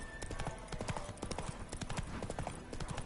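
A horse gallops in The Witcher 3: Wild Hunt on PS5, with rapid, rhythmic hoofbeats that thud steadily and close over a busy game soundscape.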